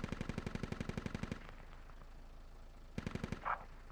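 Gunfire in a military video game: a rapid, evenly paced burst of loud machine-gun shots, a pause, then another short burst near the end.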